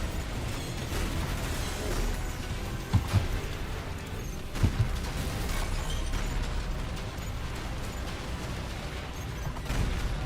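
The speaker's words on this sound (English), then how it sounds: "There's so many explosions going on." Explosions rumble through a video game, a constant low roar of booms with a few sharper bursts standing out, dense and layered without pause.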